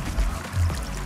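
Water being poured in the Minecraft video game, a short gurgling splash lasting about a second, close and moderately loud with no talk.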